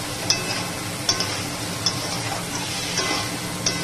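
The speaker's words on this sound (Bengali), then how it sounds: "একটু আদা দিলাম। ভালো করে আলুর সাথে কষাবো, যতক্ষণ না তেল ছেড়ে আসে" Potatoes and ginger stir-fried in hot oil: a steady sizzle runs throughout, with regular spoon scrapes against the pan about once a second, close and fairly loud with no talking.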